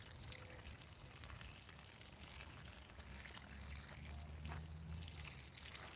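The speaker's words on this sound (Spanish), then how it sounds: "Agüita para los árboles, sí" Water is poured onto fruit trees in a garden, a faint, continuous splashing and trickling hiss running throughout with no talking.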